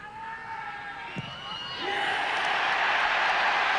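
A stadium crowd at a Rugby World Cup quarter-final between Australia and Ireland erupts into rising cheers for a successful kick by the Irish outside half, the roar growing and holding loud, with faint commentary beneath.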